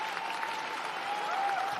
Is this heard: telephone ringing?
no